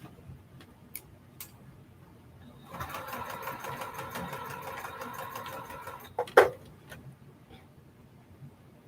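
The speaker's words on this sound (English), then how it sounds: "when you chain stitch it, you just continue to layer your blocks. Don't cut your thread, just continue sewing." A sewing machine chain-stitches quilt blocks with a fast, even mechanical whir that runs for about three seconds, framed by quiet clicks and handling noises, with soft talk in the background.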